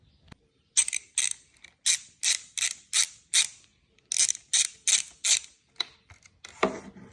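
Repeated ratchet clicking as a hand ratchet loosens the brake line bolt on a KTM Duke 990R motorcycle's front end, about a dozen sharp close bursts in a steady rhythm, with no talk.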